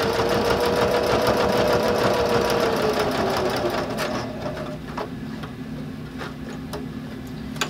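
Sewing machine stitching back over a seam on a bag handle cover, a steady close mechanical whir that slows and fades into scattered ticks and clicks of the needle.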